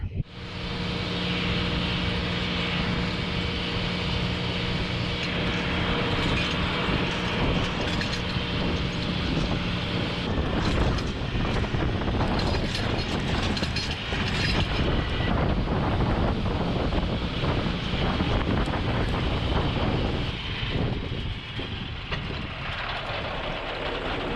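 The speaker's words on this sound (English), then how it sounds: "So we mow the ditches." A tractor mowing roadside ditches on a farm, its engine and cutter a steady loud drone throughout, heavily buffeted by wind rumbling across the microphone, with a sustained low hum early on and no talking.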